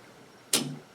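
A Hunter Bros one-handed auto-adjusting locking plier releases with a single sharp metallic snap, close and brief, in an otherwise quiet room.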